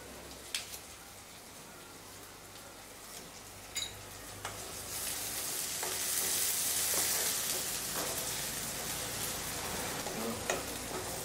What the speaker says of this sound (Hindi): तब तक हमारे प्याज और लहसुन भी फ्राई हो चुके हैं